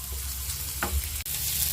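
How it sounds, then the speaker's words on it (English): Onions frying in a pan, a soft steady sizzle with a faint stir and a brief scrape near the end. "Fry the onions till golden brown."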